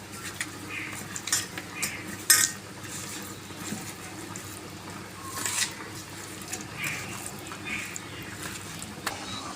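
Catla fish pieces being mixed by hand with salt and turmeric in a bowl, soft wet squelching and scattered clinks of utensils, fairly quiet and close.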